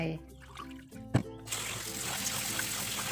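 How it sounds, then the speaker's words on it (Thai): Sticky rice being washed in water, with running and splashing water building into a steady rush after a short thump, close by in a kitchen. "ก่อนอื่นเราต้องล้างข้าวเหนียวก่อนนะคะ สัก 2-3 น้ำ"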